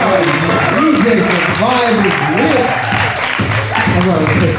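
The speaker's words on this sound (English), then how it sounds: "Another round of applause." Loud audience applause for DJs at a lively party, dense clapping mixed with whoops and shouted voices over a thumping music bed throughout.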